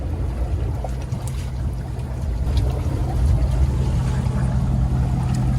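A snorkel-equipped vehicle idles in deep water, with its electronics submerged. A steady low engine rumble is joined by faint splashing and bubbling and grows slightly louder toward the end.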